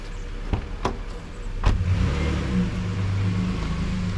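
A vehicle on its way to haul roadside firewood from an old-growth Douglas fir, a few sharp knocks and then a steady mid-pitched engine hum building as it drives down the road.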